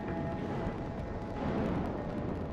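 Fiery explosions tearing through the Deepwater Horizon offshore drilling rig after flammable hydrocarbons ignite, heard as a sustained, loud, dense roar of rumbling blast noise with no clear pauses.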